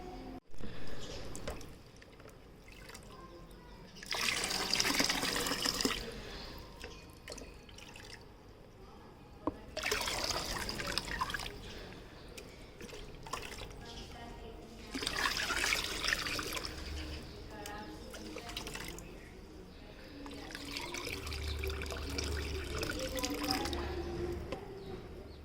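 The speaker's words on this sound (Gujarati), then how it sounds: "ચાલો આપણે પાણી તો ચેન્જ કરી નાખીએ." Water is poured and splashed in repeated bursts while being changed in a household container, several loud gushing pours separated by quieter trickles and drips over about twenty-five seconds.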